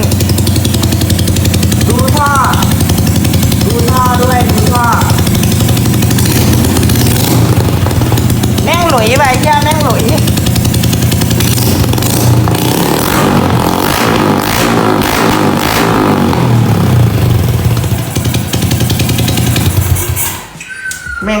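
A motorcycle entered in a show contest, hand-started with about ten tries, runs with a loud rough droning engine and repeated rising revs throughout, with a voice talking over it before the noise drops away at the end.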